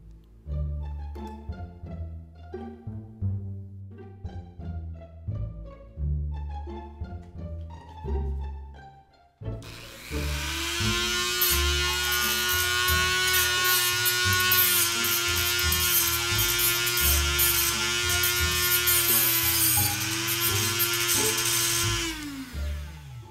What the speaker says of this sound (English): using a Dremel polishing wheel works great for a job like this